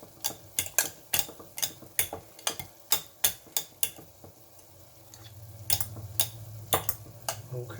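Parmesan cheese stirred into mashed potatoes, with a spoon knocking against the pot in a steady run of sharp taps, then softer scraping and mixing near the end.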